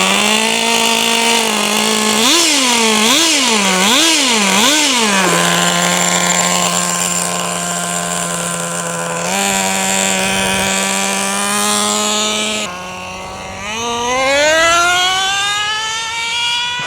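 A Traxxas Nitro Rustler nitro RC truck engine runs loud and close, a buzzing high-pitched whine that warbles through quick throttle blips, holds a steady drone, then revs up sharply toward the end.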